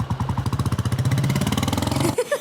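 A motorcycle engine chugs in a steady, close, pulsing idle, then cuts off abruptly near the end as the bike is parked.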